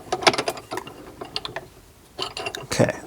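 A nut on a Jeep Wrangler steering column turned by hand, with quick metallic ratcheting clicks and scrapes in short bursts, close and fairly loud, with a pause in the middle.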